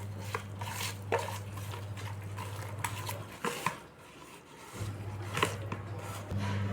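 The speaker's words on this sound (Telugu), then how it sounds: "ఇప్పుడు మొత్తం శుభ్రంగా కలిపేసుకుందాం." A spoon scrapes and knocks around a pot while a masala mixture for a mixed prawn, crab and chicken biryani is stirred, giving repeated close clinks and rubs with a low steady hum underneath that briefly drops out.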